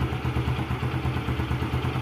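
A Yamaha Mio Sporty scooter engine, freshly fitted with a carburetor, idles close by in a quick, even putter of steady, regular pulses with light mechanical clatter.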